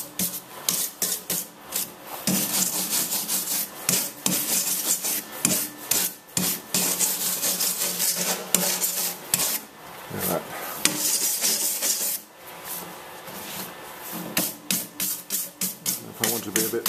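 Abrasive scrubbing cleans up a weld bead on a 1994 Celica, with loud rasping strokes in uneven bursts and short pauses between passes, close-up and without talking.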